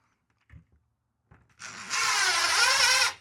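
A power drill drives into a wall, where a stud was being searched for before anchors go in. A few soft handling taps come first, then the drill spins up and runs loudly and steadily for about a second and a half.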